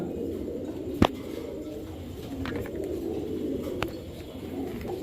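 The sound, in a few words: pigeons cooing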